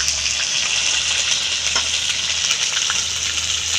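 Onion paste with ginger and garlic paste frying in hot oil for prawn kofta curry, a steady close sizzle that holds evenly throughout with faint stirring.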